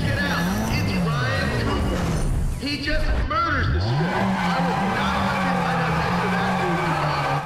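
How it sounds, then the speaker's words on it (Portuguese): Car tires squealing during a burnout in the racing game NFS ProStreet, a sustained wavering screech held loud and close over engine roar, with someone speaking over it. "Vamos esquentar o pneu."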